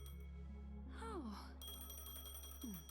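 A phone rings inside a video game, a bright repeating electronic chime layered over a steady background music bed, with brief sliding synthetic tones, moderately quiet.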